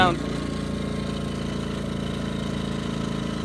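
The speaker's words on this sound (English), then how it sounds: "Look at that, one pull, huh? To get the carburetor adjusted right." A pull-started generator engine runs at a steady idle just after its carburetor was adjusted, a continuous close, even mid-pitched drone with no talk over it.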